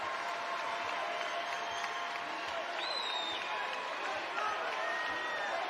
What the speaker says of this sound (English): Their crowd making some noise.